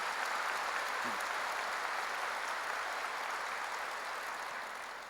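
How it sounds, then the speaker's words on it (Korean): A church congregation claps hard together during a sermon, a dense, steady wash of applause that fills the room for about five seconds and fades slightly toward the end, with no talking over it. "박수 한번 세게 치세요."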